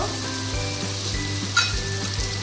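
Goat liver sautés in a pan, a steady close sizzle over a low hum, with one brief clink of a utensil near the middle.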